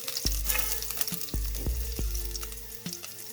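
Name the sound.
shallots and ginger frying in pan for coconut fish curry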